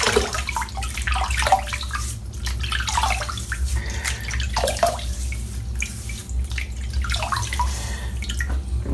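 Running water splashes and drips close by while a head is wetted before a head shave, a steady watery wash with irregular trickles and drops and no talking over it.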